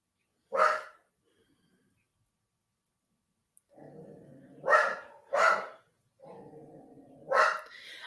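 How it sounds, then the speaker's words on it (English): Dogs bark outdoors in a few separate loud bursts, set against quieter stretches of low rumbling background noise. "there's dogs outside."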